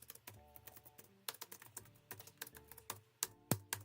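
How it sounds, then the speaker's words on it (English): Uneven bursts of typing on a sticking computer keyboard, sharp close clicks coming in irregular clusters with short pauses between them. "Oh, and my keyboard is starting to get stuck."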